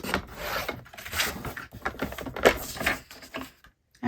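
Cardstock for a spooky luminary is cut in half with a paper trimmer, a close series of scraping, rasping strokes and soft taps in uneven bursts, followed by a brief quiet pause.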